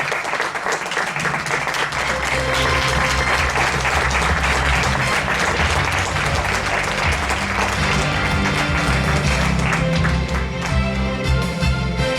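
Sustained, dense applause from a crowd at a Partido Popular political rally in Castillo de Locubín, steady and loud throughout with no speech over it.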